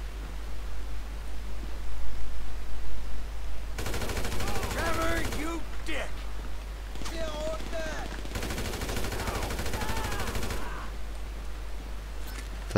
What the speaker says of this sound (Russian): Блин, он мощно стреляет.